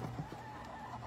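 Chickens on a small poultry farm cluck close by in short, quick, overlapping calls against steady background noise during a brief moment.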